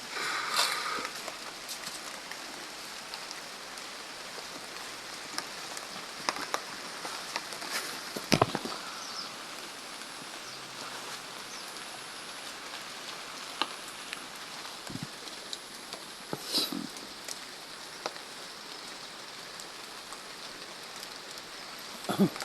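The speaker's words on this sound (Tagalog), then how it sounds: "Grabe, lakas ng ulan doon tol." Heavy rain falls in a forest as a faint, steady hiss with occasional sharper drips and knocks scattered across it, and no talk.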